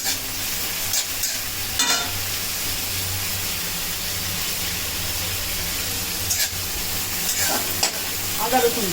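Chopped onion and green chili sizzle and crackle steadily in a hot pan, with occasional stirring scrapes, close and continuous throughout, no talking.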